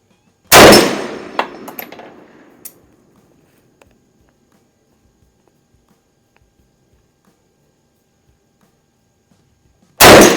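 Two loud rifle shots crack at a shooting range about ten seconds apart, from an Enfield No. 5 Mk1 Jungle Carbine and a Chinese Type 56 SKS, the first ringing out in a long fading echo with quiet between.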